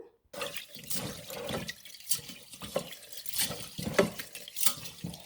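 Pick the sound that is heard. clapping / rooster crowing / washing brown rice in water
washing brown rice in water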